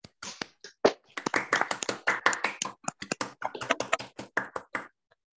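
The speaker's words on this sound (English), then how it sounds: "give a round of applause for Adélie." Scattered clapping from a handful of people on an online video call, thin and uneven, with individual claps audible, fading to silence after about five seconds.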